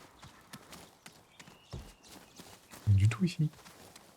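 Horse hooves clip-clopping in the video game Ghost of Yōtei, a few soft steps followed by a louder thudding cluster, with someone talking over them.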